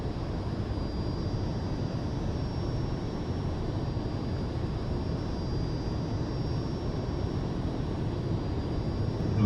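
Steady, unbroken roar of a Fouga Magister CM.170 jet in flight in Microsoft Flight Simulator 2020, heard from the cockpit as an even, loud engine drone with no voices.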